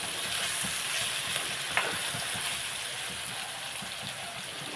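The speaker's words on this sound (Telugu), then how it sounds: "మసాలాలు మగ్గుతున్నాయి కదండి" Spices fry in a pan for a brinjal and raw mango curry, giving a steady, even sizzle throughout with one faint clink partway through.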